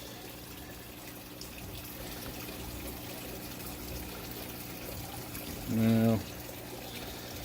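Water trickles and drips steadily as an aquarium hose is lifted out of a fish tank holding a whiptail catfish. The sound is faint and continuous, with a single short spoken word near the end.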